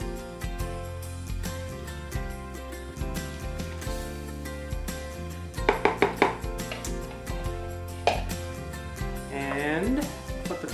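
Cooked chicken is broken up inside a Tupperware Quick Chef Pro, its plastic blades rattling and clacking in irregular bursts under a busy mix of kitchen noise and background music.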